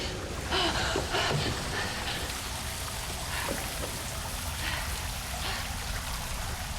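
Water flows and trickles steadily through the bottom of underground catacombs, a continuous rushing wash with faint splashing, heard close and alone.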